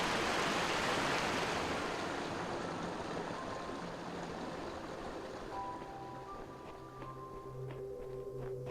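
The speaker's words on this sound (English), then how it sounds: "Waterfalls from up on high." A waterfall roars as a broad, steady rush of water in the video game The Talos Principle. The rush eases slightly partway through, and soft sustained musical tones enter underneath in the second half.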